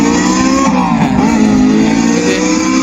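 A Goeen Chalo 1000 V2 electric scooter plays a simulated engine sound through its speaker, a loud, steady, car-like drone with a slight rise in pitch, close and continuous.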